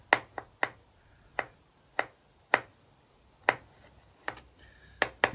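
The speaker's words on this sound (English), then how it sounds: "We're going to take a couple cloves of garlic and just cut them up." A knife chops garlic cloves on a cutting board in a kitchen, with about a dozen crisp, separate taps at an uneven rhythm, close and fairly loud.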